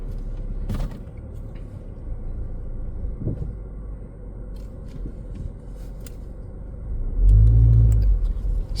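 A car engine runs at a low idle rumble with a few clunks and shuffles inside the cabin. Near the end it swells into a louder, deeper surge as the car pulls away. No speech.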